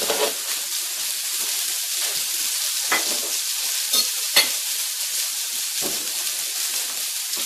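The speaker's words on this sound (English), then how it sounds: "These are frying up nicely." Hamburger patties fry in a pan with a steady, close sizzle that runs throughout, broken by a few brief scrapes and clicks of a utensil.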